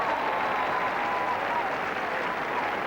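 Cricket crowd at Old Trafford applauding a boundary during a 1977 England v Australia one-day international, a steady, dense wash of clapping and cheering held at an even level throughout.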